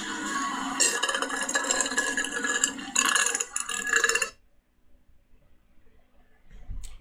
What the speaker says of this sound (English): the food is in its package and she's burping on them